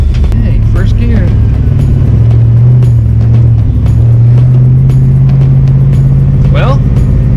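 A 1986 Ford Mustang GT with a replacement T5 transmission pulls away in first gear, its loud engine drone rising in pitch from inside the car while someone speaks over it.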